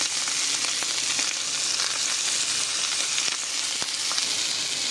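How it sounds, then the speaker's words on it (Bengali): Small puti fish fry in mustard oil on a tawa, giving a steady, close, loud sizzle with scattered sharp crackles and pops that runs unbroken for the whole stretch, with no voices. "এবার এক এক করে সব মাছগুলো দিয়ে আমরা খুব ভালোভাবে লাল লাল করে ভাজা করে নেবো"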